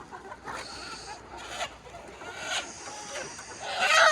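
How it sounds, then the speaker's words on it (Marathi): Roosters cluck in short bursts and crow nearby on a poultry farm, with several repeated calls and a louder crow rising at the end over faint farmyard noise. "कोंबडे कोंबडे"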